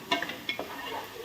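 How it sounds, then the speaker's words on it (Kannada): A spoon scrapes and stirs coconut masala in a pan with the gas switched off, giving a few soft, quick scraping strokes and light clinks over a quiet background. "ಗ್ಯಾಸ್ ಬಂದ್ ಮಾಡಿ ಮತ್ತೊಂದು ರೌಂಡು ತಿರುಗಿಸಿ"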